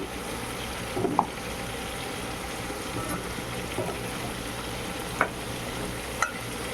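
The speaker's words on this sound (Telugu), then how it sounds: "చాలా బాగా ఫ్రై అయిపోయిందండి ఎంత బాగా ఫ్రై అయిందో చూడండి" Chicken frying in oil in a pan for a Rayalaseema-style chicken fry, a steady, moderate sizzle throughout with a few sharp taps from a spatula.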